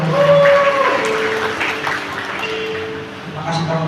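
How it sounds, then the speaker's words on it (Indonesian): A church congregation claps and applauds, a continuous wash of many hands close around, fading slightly toward the end, with voices mixed in. "Kasih tepuk tangan yang beri buat Tuhan."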